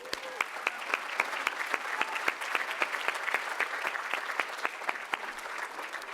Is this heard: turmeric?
no